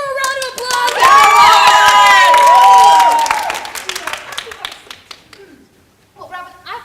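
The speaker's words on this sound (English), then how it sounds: "Let's give her a round of applause" An audience applauds and cheers at a public event on health equity. Loud clapping rises beneath cheering voices, then fades into scattered claps, and a voice returns near the end.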